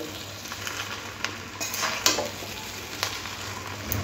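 Chinese mixed fried rice with chicken and egg stirred and fried in a pan, a steady sizzle broken by scraping strokes of the spatula against the metal, close and fairly loud, with no voices.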